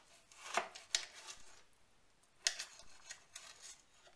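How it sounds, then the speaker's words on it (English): A knife cuts pork spare ribs into individual ribs, giving a few faint, sharp, scattered chops in a quiet kitchen. "all you want to do is cut these up into individual ribs"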